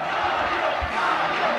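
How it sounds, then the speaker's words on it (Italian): Crowd of Napoli fans at a training session gives a loud, sustained ovation for Mario Rui, a dense wash of cheering and shouting filling the whole moment. "ovazione totale per Mario Rui"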